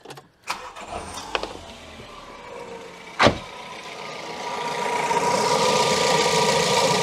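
Ford Ka with an overhead valve engine cranks and catches with a sharp burst, then settles into a steady, fairly quiet idle with a faint rising hum; a click or two precedes the start.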